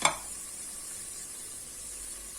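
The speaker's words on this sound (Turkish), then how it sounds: "Bu şekilde hafiften etlerimi bir çevirdikten sonra soğanımı ilave edeceğim." Meat and onions frying in olive oil in a pan for a Hatay-style summer vegetable stew, a steady close sizzle throughout after a brief clatter at the start, with no talking.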